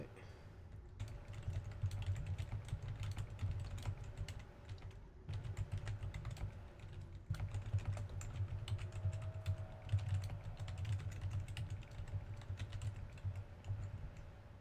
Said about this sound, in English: And you're typing